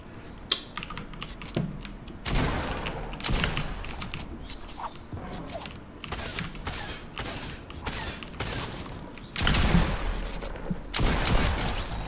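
In a video game, a P90 and a shotgun fire in sharp, clattering bursts that come in uneven clusters over steady background noise. The sharpest volleys land near the middle and again toward the end.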